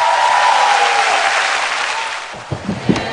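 Audience applause in a television music competition studio, a loud dense wash of clapping and crowd noise that slowly tapers off, with voices breaking in toward the end.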